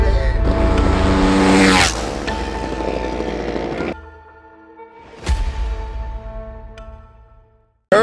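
A 30hp billet-head 236cc mini bike engine runs loud and close, with a steady roar that breaks off near four seconds, fades low, then surges back with a sharp blip before cutting out.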